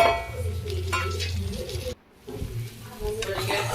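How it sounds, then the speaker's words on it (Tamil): Chopped tomatoes drop onto browned onions in a hot pan for chicken gravy, giving a steady close sizzle with clinks and stirring scrapes, broken by a brief near-silent gap before the frying resumes. "வெங்காயம் நல்லா ப்ரௌன் ஆனோடனே தக்காளி பழத்தை அதில் போட்டுருங்க"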